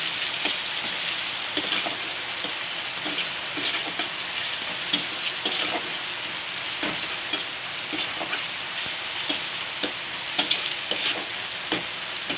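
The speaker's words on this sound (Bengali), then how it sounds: "কাশ্মীরি লঙ্কা গুঁড়ো, একটু জিরে গুঁড়ো দিয়ে ভালো করে নাড়তে হবে একটু।" Loita fish sizzles in a pan with Kashmiri chilli and cumin powder, a loud constant hiss of frying overlaid with brisk, regular scraping strokes of stirring throughout, no voices.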